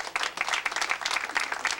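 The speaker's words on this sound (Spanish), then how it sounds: "Aplauso más fuerte para él, por favor." Loud, steady applause from an audience at a 50th birthday celebration, with dense clapping filling the whole stretch without a break.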